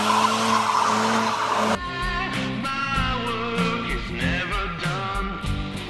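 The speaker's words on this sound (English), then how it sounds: "today I'm going to show you how to do a burnout" Front-wheel drive 2007 Toyota Camry with an automatic transmission doing a tire burnout, the engine roaring as the tires break into a loud wavering screech, then pulsing chirps and squeals toward the end.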